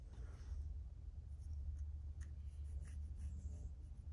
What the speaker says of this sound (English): if I place it here and draw a line, and then draw a line here as well